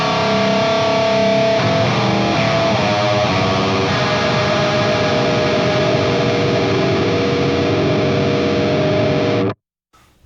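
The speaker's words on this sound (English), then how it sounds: "So a ring modulator in itself, I'll just enable it here." A guitar runs through a ring modulator effect on a Fractal FM3, FM9 or Axe-FX, giving a loud, harsh, metallic tone with warbling inharmonic overtones that sustains steadily before cutting off abruptly near the end.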